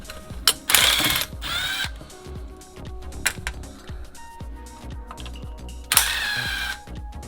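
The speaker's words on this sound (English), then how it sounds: "Just removing the coil packs so that we can pull out the spark plugs" Hand ratchet clicking in short bursts while removing coil packs from a V8 engine in a BMW E30, close and crisp, with brief pauses and a few louder mechanical clanks between bursts.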